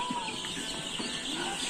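Poultry-farm chickens being vaccinated cluck and chatter continuously, several birds at once in a busy, moderately loud flock with no talk over them.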